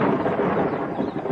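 Deep rolling thunder from a summer storm rumbles low and steady for a moment, broad and heavy with no clear single crack, heard alone without any voices.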